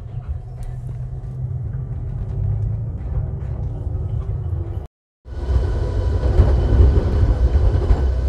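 A small heritage tram rolling along rails at Seaton, with a steady low rumble and faint rail clatter, a brief cut, then a louder, rougher running noise heard from on board, with no talking.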